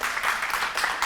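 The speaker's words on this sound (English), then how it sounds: "You may applaud" A short burst of audience applause, a dense patter of many hands clapping together at moderate volume.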